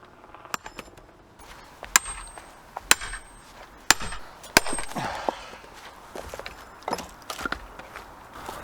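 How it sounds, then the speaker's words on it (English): A sledgehammer bashing an embedded steel wedge out of a log turned on its side, a series of sharp ringing metallic clangs at irregular intervals with rustling and thuds between. "you simply turn the log on its side and bash the wedge out with the sledgehammer"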